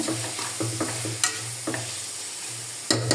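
Masala for chicken biryani being sautéed in a pan, with steady low sizzling and a few sharp spatula scrapes and knocks spread across the stretch, close and clear, no talking.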